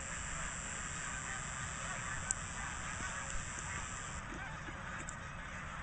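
Geese honk steadily outdoors in Milton, Delaware, a dense flock of overlapping calls under a constant steady background noise, with no talking.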